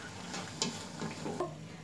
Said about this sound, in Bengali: এভাবে আমি সবগুলো প্যাটিস ভেজে নিব।